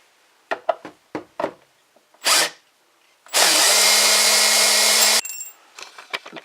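Power drill backing screws out of stage scenery, with a few light knocks and handling taps, a short whir, then one sustained high motor whine lasting about two seconds, close and loud, followed by more clatter.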